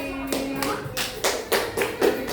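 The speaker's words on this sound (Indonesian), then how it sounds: "tepuk tangan buat tim Bima Sakti" A short burst of classroom clapping for a student team after a robot activity, about six or seven distinct claps in an uneven rhythm, moderately close, with a faint voice underneath at the start.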